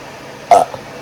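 A single short burp bursts out loud and close, a quick throaty belch standing alone against near silence.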